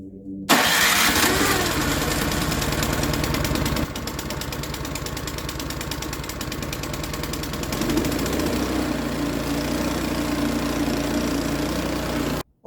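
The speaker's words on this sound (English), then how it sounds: "this is a Craftsman 2-stage 24-inch snow thrower. And it starts right up." A Craftsman two-stage 24-inch snow thrower's small engine starts abruptly and settles into a loud, steady idle close to the listener, running until it cuts off at the very end.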